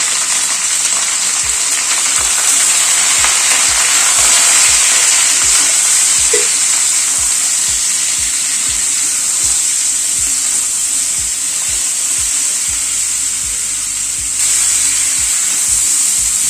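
Chopped vegetables, including ridge gourd seasoned with salt and turmeric, sizzle loudly in hot oil in a pan, a continuous close frying hiss with soft rhythmic scrapes and clinks of stirring throughout.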